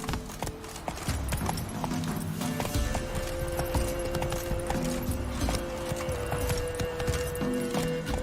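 Roach the horse trots through a swamp in The Witcher 3 video game, a steady close clip-clop of hooves against a dense ambient backdrop of game music and environmental sounds, with no talking.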